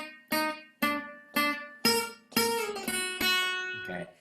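Guitar playing a riff: about seven sharply plucked notes and chords in a clear, even rhythm, each ringing briefly and decaying, close and alone.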